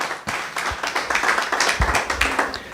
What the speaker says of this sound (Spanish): Un aplauso a la palabra de Dios.